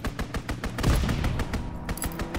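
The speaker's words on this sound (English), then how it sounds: "Fighter aircraft ready. Call for a strafing run." Rapid gunfire from a fighter aircraft's strafing run in a video game, a dense burst of repeated shots and impacts rolling over a couple of seconds, fairly loud with no voices.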